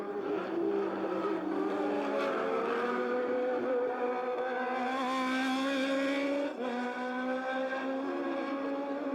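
Open-wheel Atlantic race cars circling the wet Race City Calgary circuit in 1990, a continuous, fairly loud engine whine whose pitch rises and falls as the cars accelerate and lift, with no talk.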